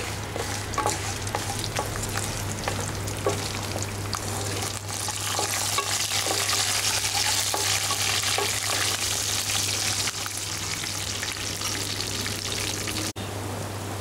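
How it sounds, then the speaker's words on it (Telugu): Dried red chillies and green chillies frying in oil alongside garlic cloves for an amaranth leaves fry, giving a loud, continuous close sizzle with occasional stirring scrapes and no voices. "వీటిని కూడా కాస్త ఆయిల్ మంచి ఫ్రై అవనివ్వాలి. అలాగే వీటితో పాటే ఎండుమిర్చి, పచ్చిమిర్చి కూడా వేసుకోవాలి."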